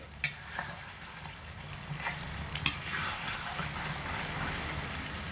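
Aloo dum is stirred in a pan over low heat, giving a soft continuous sizzle with a few spoon scrapes and taps near the start, close up and with no voices.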